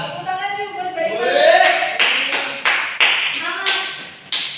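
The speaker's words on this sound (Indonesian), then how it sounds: "Tepuk tangan yuk buat Mbak Ima." Children clap in a classroom for a classmate who answered a question, sharp hand claps coming in quick, uneven bursts over a teacher's voice and the talk of kids nearby.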